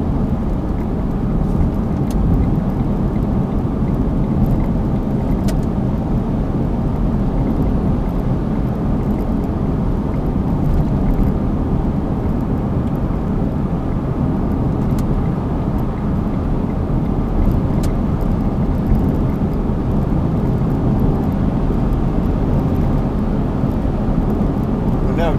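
Cabin of a 2012 Smart Fortwo Coupe Passion mhd Softouch cruising at 70 mph around 3,000 rpm: a steady, even low road-and-engine drone with no breaks, heard from inside the car.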